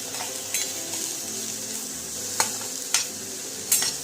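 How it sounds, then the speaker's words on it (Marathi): Cabbage bhaji with salt being stirred in a pan, with a continuous close sizzle and sharp spatula scrapes against the metal at intervals, no voices. "मीठ घालून परत एकदा परतवून घ्या"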